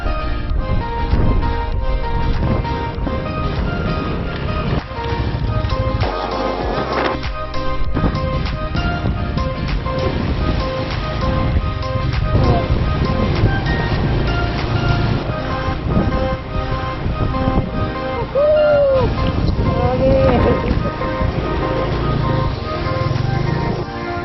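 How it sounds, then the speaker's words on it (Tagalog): Strong wind buffets the microphone continuously, with roaring gusts and rumble and no talking. "Napakalakas ng hangin."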